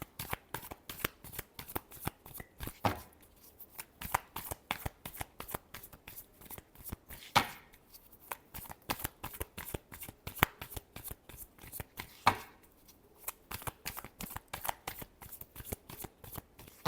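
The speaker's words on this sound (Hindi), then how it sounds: "Last shuffle." A deck of tarot cards is shuffled by hand in rapid riffling bursts, crisp dense flicking that runs continuously with brief pauses, close and fairly quiet, with no talk.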